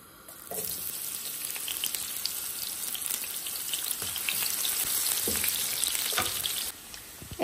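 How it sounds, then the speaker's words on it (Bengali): Beef, onion and green chilli fry in hot oil with a steady, close hiss and sizzle and occasional pops and spatters, with no talk over it. "কাঁচামরিচ আর গরু মাংস দেওয়ার পরে দেখুন তেল একদম কীভাবে ছিটে আসতেছে আমার হাতের মধ্যে"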